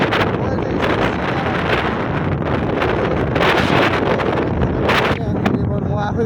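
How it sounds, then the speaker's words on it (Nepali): Outdoor wind buffets the microphone in loud, continuous rumbling gusts with brief rustling swells throughout. "हावा चलिरहेछ"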